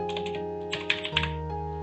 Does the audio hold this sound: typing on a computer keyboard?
yes